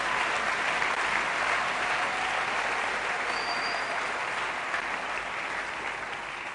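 A church congregation at a missionary convention in Masina applauds and cheers in acclamation of Jesus, steady dense clapping from many hands filling the room, loud and continuous throughout.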